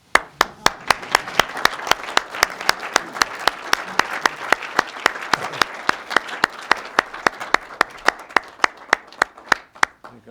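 Applause at a 2014 induction ceremony, with steady sharp clapping close by over a broad wash of audience clapping, sustained for about ten seconds.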